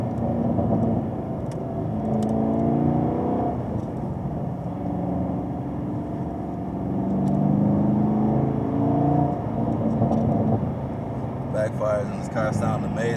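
A 2020 Camaro SS 1LE in track mode, its exhaust rumbling and droning under acceleration from inside the cabin, with engine note rising and falling and someone talking over it.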